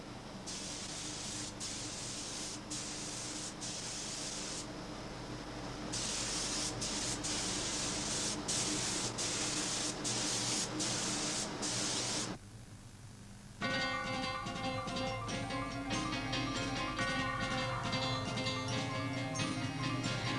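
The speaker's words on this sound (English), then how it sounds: "When a piece of furniture has been assembled, it's sprayed with polish and then sent off to be upholstered." A continuous loud hiss of polish sprayed onto assembled furniture in a workshop, steady for many seconds with a brief drop partway through, over mechanical ticking.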